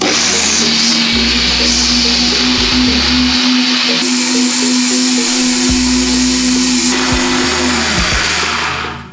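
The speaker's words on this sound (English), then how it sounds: "Then you blend." A loud electric blender blending water with spices, grains of Selim and cloves runs continuously with a steady motor whine, its pitch shifting slightly as it churns, then winding down at the end.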